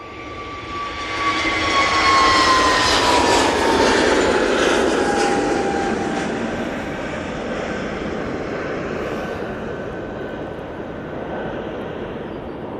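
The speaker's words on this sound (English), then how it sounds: "We've got this EasyJet now on the roll. It's off to Tivot using their A320neo." An EasyJet Airbus A320neo jet taking off, engine roar swelling loudly with a falling whine as it rolls past, then easing into a steadier distant rumble as it climbs away.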